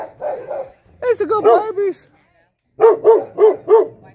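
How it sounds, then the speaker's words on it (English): A guard dog barks in two short bursts, three or four sharp, close woofs each with a pause between, while a person talks affectionately nearby. "Guard dog."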